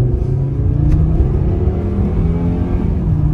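A 1996 Volvo 850 Turbo Platinum Edition revs its turbocharged engine, producing a loud, continuous drone with layered harmonics, heard close and steady throughout without a voice over it.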